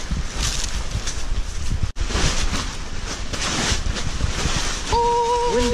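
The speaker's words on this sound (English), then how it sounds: "Windy today, isn't it?" Strong wind roars and buffets steadily across the whole stretch, with a brief dropout midway and a faint tone appearing near the end.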